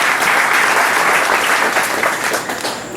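Church congregation giving a loud round of applause, dense steady clapping close at hand that fades slightly near the end.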